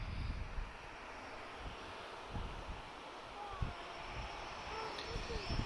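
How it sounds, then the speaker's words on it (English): A TAP Portugal airliner on departure from Lisbon Airport, its engines making a broad, distant roar with wind buffeting the microphone and occasional low gusts, and a commentator talking over it. "We've got a departure, TAP 100, off to Recife."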